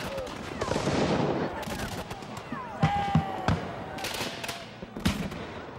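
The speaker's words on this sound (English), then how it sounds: "The roar of musket and cannon fire thundered across the Brandywine Valley" Musket volleys and cannon fire at the 1777 Battle of Brandywine in the Brandywine Valley, a run of sharp, loud reports and booming blasts over a dense rumbling din, with several distinct shots standing out near the end.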